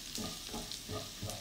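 Rice is stirred in a pot with lemon zest strips, a spoon scraping and swishing in repeated rhythmic strokes, close and moderately loud with a light sizzle underneath.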